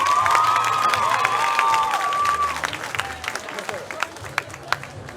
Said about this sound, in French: Merci de les accueillir sous un tonnerre d'applaudissements.